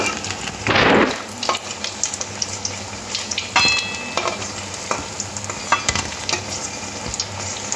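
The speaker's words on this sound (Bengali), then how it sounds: "কাটলেটগুলো 2 সাইড দেখুন কি সুন্দর লাল করে ভেজে নিয়েছি।" Veg cutlets frying in oil, with a steady close sizzle and a louder splashing burst near the start, followed by occasional scraping and clinking from a utensil in the pan.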